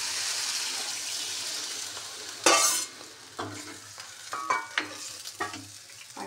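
Water poured into a hot frying pan bursts into a sudden loud hiss over a steady background sizzle, followed by several sharp clinks of a spoon stirring against the pan.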